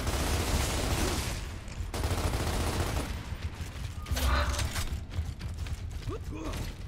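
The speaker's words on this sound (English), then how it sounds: "I won't let them get near you, so just keep shooting them." Gunfire and mechanical weapon noise in the video game Gears of War: Ultimate Edition during co-op play on Insane, loud and continuous with bursts of shots, creaks and rattles filling the mix.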